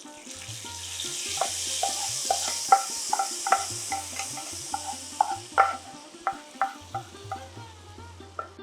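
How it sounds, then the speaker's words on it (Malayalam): Fried tempering is added to a Kerala parippu payasam (lentil dessert) and stirred in, giving a close sizzle with a steady run of scraping stirring strokes and soft clinks throughout. "നമ്മുടെ വറവ് നമുക്ക് നമ്മുടെ പരിപ്പ് പായസത്തിലേക്ക് ചേർത്ത് കൊടുക്കാം."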